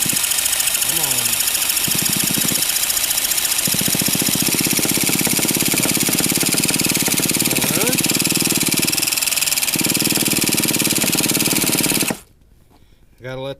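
An old engine cranked by its starter motor in a basement, a loud continuous churning drone that runs for about twelve seconds before cutting off abruptly, leaving near silence.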